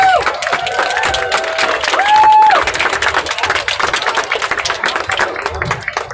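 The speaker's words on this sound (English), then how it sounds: "Give her a round of applause." A crowd at an outdoor youth peace march claps and cheers for a young performer, loud and sustained, with a few voices calling out over the applause.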